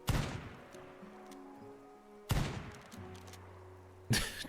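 Gunfire in Rimworld, three separate sharp shots spaced a couple of seconds apart, each with a fading tail, with faint game tones between them.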